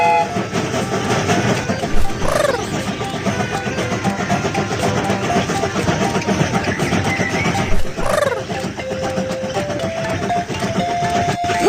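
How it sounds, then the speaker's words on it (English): An animated cartoon train engine starts and runs with loud rhythmic rail clatter and rumbling, and two rising whistle-like toots sound along the way. "Pull the slide bar to start the engine."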